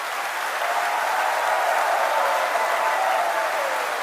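Loud, dense applause from an audience at a political speech event in Nagpur, a steady wash of clapping holding evenly for about four seconds with no pauses.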